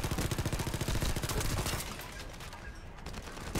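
Rapid automatic gunfire from a purple-rarity weapon in the video game The First Descendant rattles out in a fast, even stream of loud shots that thins toward the end.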